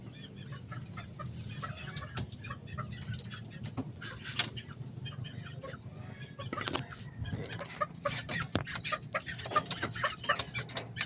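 Young gamecock stags cluck and call in a farm setting. Soft, scattered clucks and short crows come at a moderate distance over a low background hum, growing busier toward the end.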